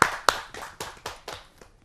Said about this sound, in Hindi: आपकी जोरदार ताली।